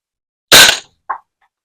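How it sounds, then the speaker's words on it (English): A single airsoft BB gun shot, from a gun run on CO2, green gas or pump: one sharp, loud crack followed by a brief faint knock, in otherwise silent surroundings. "I'm going to just see if I got a BB in there, so I'm going to shoot"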